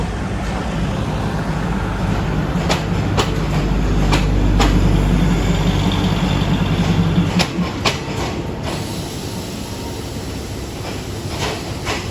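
Thai express train 72 from Ubon Ratchathani pulling into Bangkok station in light rain, four carriages rumbling loudly and close with rhythmic wheel clacks over rail joints, the low roar fading as it slows.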